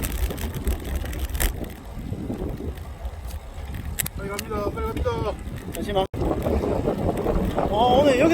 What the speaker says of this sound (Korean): 바람이 좀 많이 부네요. 여풍이 좀 많습니다, 지금.